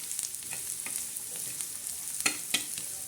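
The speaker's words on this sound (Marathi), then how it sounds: "मसाला असं चांगला कांद्यावर परतून घ्यायचा" Turmeric, salt and masala sauté over onions in a pan, a soft, close sizzle broken by a few light scraping stirs and small taps, with no talking.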